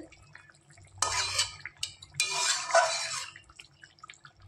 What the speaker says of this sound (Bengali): এবার ঢাকনি তুলে দেখাবো কতক্ষণ হচ্ছে।